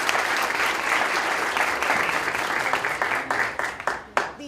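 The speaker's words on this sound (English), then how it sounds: "let's give them a big round of applause" Audience applause for visiting students from a leadership preparatory institute at a courtroom Law Day event, steady loud clapping throughout that thins into scattered claps near the end.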